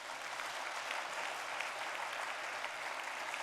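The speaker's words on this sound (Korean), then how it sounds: "하나님께 영광의 박수 돌려요" A church congregation claps in praise during a Korean worship service, a dense, even burst of applause filling the room for a few seconds.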